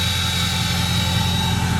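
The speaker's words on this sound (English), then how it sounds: "Listen to that exhaust." The exhaust of a 2004 Ford F350 Harley Davidson Edition truck gives a steady, loud engine drone with a deep low rumble and a high whine, like idling, continuous throughout with no speech.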